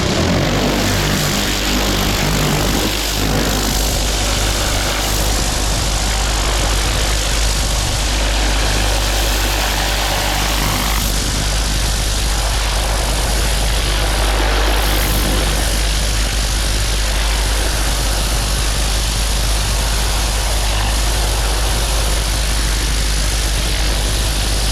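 Pressure washer with a turbo nozzle spraying outdoors, a loud, steady, roaring hiss with a heavy engine-like drone underneath, constant and close throughout with no pauses.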